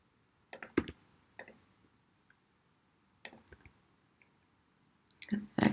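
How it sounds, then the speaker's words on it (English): A few crisp, isolated key presses on a computer keyboard during 3D modelling work in Fusion 360, arriving as short clicks spaced apart, with a brief cluster near the end, in an otherwise quiet room. "X on the keyboard"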